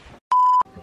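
A timer being started gives one steady, loud electronic beep, a pure sustained tone about a third of a second long, set between brief stretches of quiet background noise.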